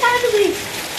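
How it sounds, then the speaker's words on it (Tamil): Heavy rain pours down in a windy village in Virudhunagar district, a broad, steady wash of water noise throughout the short moment, with a voice sounding briefly at the start. "மழை சரியான மழை பெஞ்சிட்டு இருக்கு."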